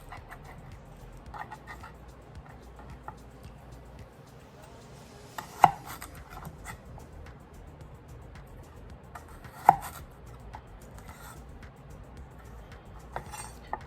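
A knife chops vegetable ribs into small pieces on a board, giving scattered soft taps with two sharper, louder knocks standing out over a quiet background.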